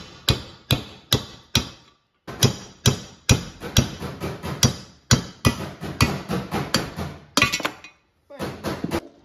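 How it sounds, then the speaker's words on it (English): Sharp metallic hammer blows drive out the tail shaft bushing of a Mopar A833 four-speed transmission, ringing up close in quick uneven bursts with brief pauses between groups of strikes. "Remove the tail shaft bushing."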